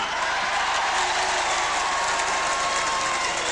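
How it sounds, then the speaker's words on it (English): Wrestling crowd at the Pavilion Hemel in the 1970s erupting after the first fall, a steady wash of applause and cheering from a packed hall that holds loud and even throughout. "the crowd here at the Pavilion Hemel really went mad at that first fall going to Sinclair"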